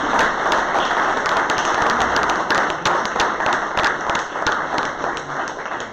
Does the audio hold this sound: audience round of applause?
yes